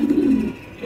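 A racing pigeon gives a low, throaty coo, one soft rolling call near the start and a fainter murmur at the end, close by and alone.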